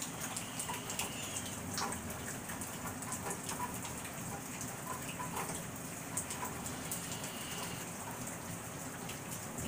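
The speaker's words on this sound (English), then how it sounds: "perfect timing because it's raining" Rain falls outdoors in a steady, soft patter with scattered louder drips on surfaces, continuous and fairly quiet.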